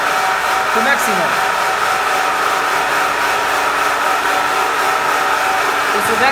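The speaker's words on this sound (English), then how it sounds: "Machine will be running. Vacuum start." A vacuum gold bar casting machine runs at maximum power with a steady, loud whirring hum and constant airflow noise, unchanging throughout, with a few faint clicks.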